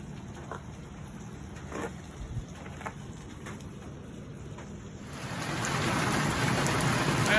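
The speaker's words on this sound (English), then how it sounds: "it just keeps on raining" Steady rain falls at a wet Northeast Florida campsite, a soft patter at first that grows into a heavier, louder downpour near the end, with no voices.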